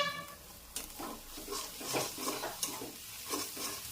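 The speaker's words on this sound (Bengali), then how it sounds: "আবার একটু নেড়ে চেড়ে নিলাম" Egg mixture with turmeric stirred in a frying pan for egg bhujia, a gentle sizzle broken by several distinct spatula scrapes in an irregular rhythm, quiet and close with no talk.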